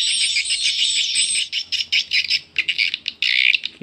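A recorded swiftlet lure call plays from a speaker as dense, high-pitched twittering chirps, first continuous and then breaking into rapid choppy bursts.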